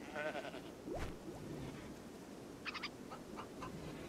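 Sheep bleating in the colony-building video game RimWorld, a couple of short, faint nasal bleats amid soft background game noise.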